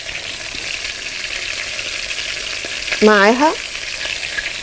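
Garlic frying in melted butter in a pan, a steady close crackling sizzle, with a brief voice speaking over it partway through.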